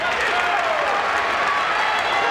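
A basketball arena crowd at an Indiana versus Bowling Green championship game cheers and applauds in a steady, dense roar that fills the whole moment.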